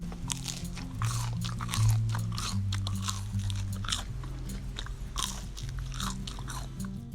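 Crispy homemade french fries, salted, are bitten and chewed in a steady run of close, loud crunches, with background music underneath.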